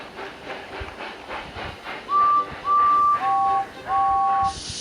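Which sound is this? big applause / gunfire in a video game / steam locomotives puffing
steam locomotives puffing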